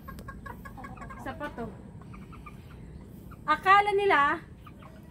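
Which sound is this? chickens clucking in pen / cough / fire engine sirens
chickens clucking in pen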